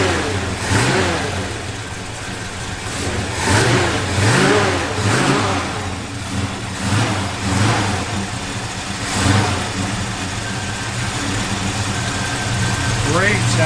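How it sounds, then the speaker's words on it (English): A 1964 Chevrolet Chevy II SS with a small-block V8 revs repeatedly in a steady rhythm of rising and falling surges over a rumbling idle, close and fairly loud, with someone talking in between. "Great sound in small block."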